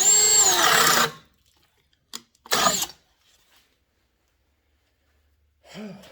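A cordless drill driver on a 5 amp-hour battery whirs for about a second, stops, then runs again in a short burst, with near silence around and a soft breath at the end.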